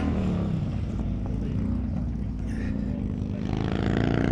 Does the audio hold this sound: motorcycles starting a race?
yes